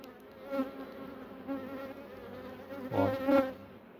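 Honeybees buzzing close by around an open beehive during a hive inspection, a dense, steady drone with louder swells as bees fly near.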